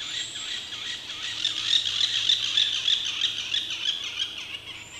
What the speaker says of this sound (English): Now, fish fill the waters and birdsong fills the air.